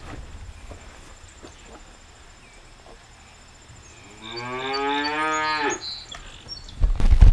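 A single long, loud cow moo rising out of quiet barn ambience, with a few soft clunks around it.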